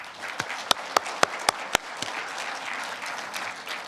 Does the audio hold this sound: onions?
no